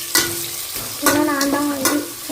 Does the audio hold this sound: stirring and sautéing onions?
yes